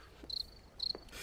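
Two sharp, high-pitched insect trills, like crickets chirping, sound in separate bursts over a faint background hush with a soft click or two between them.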